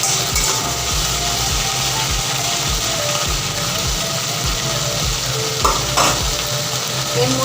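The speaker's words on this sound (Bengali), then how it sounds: "এবার এর মধ্যে আমি ঢ্যাঁড়সটা অ্যাড করে দিলাম, দিয়ে এটাকে একটু বেশ ভাজা ভাজা করতে হবে।" Okra fries in a hot pan with oil, a constant sizzle broken by steady scraping strokes as a spatula stirs it again and again, loud and near.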